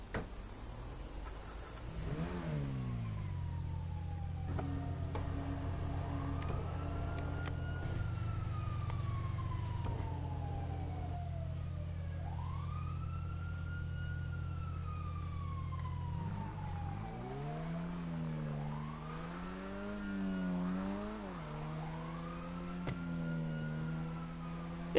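A small convertible car drives along with a steady engine drone, rising and falling in pitch as it shifts and accelerates, heard close and continuous without talk.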